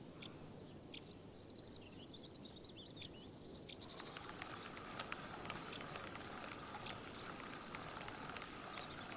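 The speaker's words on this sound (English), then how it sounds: "Oh, here comes the rain again." Soft, steady rain patters in the fishing game Euro Fishing, faint at first with bird chirps, then thickening into denser dripping after a few seconds.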